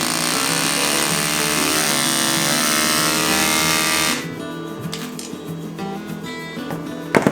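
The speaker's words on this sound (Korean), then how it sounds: "이렇게 전산 볼트 커터가 됩니다" A powered threaded rod cutter shears through a steel threaded rod with a loud, steady whirring grind lasting about four seconds, then drops to a quieter motor hum with a few light clicks.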